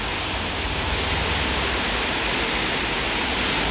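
Heavy rain pours steadily onto a street in the Dorobanti area of Bucharest on May 29, a dense, unbroken hiss with no voices.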